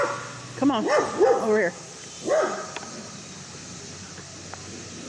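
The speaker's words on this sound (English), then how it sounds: "This dog has been moaning and baying and howling" A beagle tied up outdoors at a campsite bays and howls in several drawn-out, wavering cries, fairly near, with a person briefly calling out between them.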